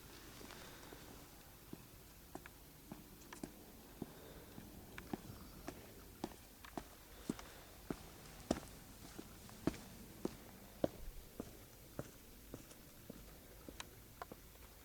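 Faint, sparse footsteps sound as someone walks alone up a pathway, each step a soft, distinct tap at an irregular pace, picked up by recorders on the ground in a quiet outdoor setting.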